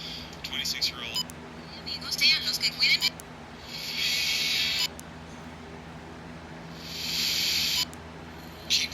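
Radio static from a TRI AN PRC-152 10W handheld radio, hissing bursts of noise that switch on and off, two longer stretches of steady hiss, faint beneath a low background hum.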